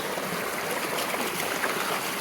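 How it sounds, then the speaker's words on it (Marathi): Steady rushing water flowing strongly and continuously under pressure on a farm, a dense broadband hiss with no pauses. "पाण्याचा प्रेशर वाढलेला आहे"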